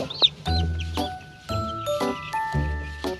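Chicks only a few days old peep in quick, high, bright bursts, several overlapping at close range, with short pauses between clusters of calls.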